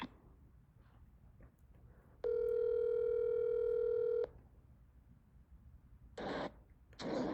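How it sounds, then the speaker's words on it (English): A telephone call placed during a phone conference gives a steady two-second tone, loud and clean, followed by quieter noise and two short bursts of sound near the end. "let me try to get the other gentleman on the phone"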